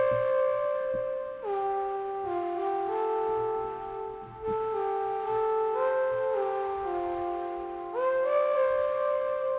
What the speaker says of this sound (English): it's a saw wave with some noise and some like portamento.